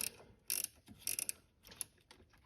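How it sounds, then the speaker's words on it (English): A ratchet ring spanner loosening a bolt while a Camaro's TPI plenum is removed, heard as quick close metallic ratcheting clicks in short bursts with brief pauses between them. "this type of spanner or wrench, whereby you've got an open-ended on one end and a rat ring or ratchet ring on the other"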